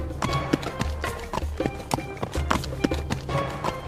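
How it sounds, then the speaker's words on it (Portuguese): Hooves clop in a steady trotting rhythm, close and fairly loud, with a low rumble underneath. "ouvindo o barulho do cavalo trotando"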